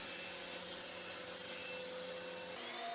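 A saw blade cuts through wooden stock backed by a sacrificial fence, giving a continuous, steady whir and rasp with a faint high whine. It holds at an even level throughout, with no voices.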